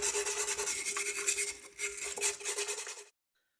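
Rasping, scrubbing strokes of cleaning the engine cover on a 1950s reel mower, steady close-up rubbing for about three seconds before stopping abruptly.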